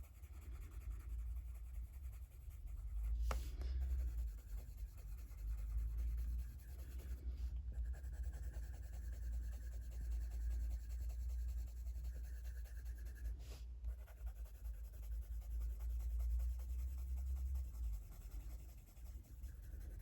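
Pencil colouring skin tones on paper for a spring illustration, a soft continuous scratchy rubbing of the lead against the page, steady and close with brief pauses, heard alone over low background hum.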